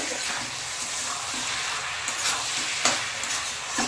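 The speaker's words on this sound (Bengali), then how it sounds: "আলুটা মশলার সাথে কিছুক্ষণ কষতে দিয়েছি" Cubed potatoes frying with spices in oil in a pan, a steady dense sizzle with intermittent scraping stir strokes, close and moderately loud, no talking.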